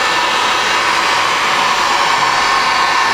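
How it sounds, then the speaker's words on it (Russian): A hair dryer in a honey extraction room blows with a loud, steady whooshing roar that holds constant throughout. "Фен разогрелся, вот смотрите, только подставляй, видите, расстояние небольшое"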